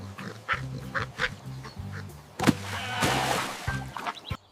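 A cartoon farm duck quacks in a quick run of loud, close, nasal quacks with brief pauses between them. A burst of noisy splashing or rustling comes in midway, then the quacking resumes.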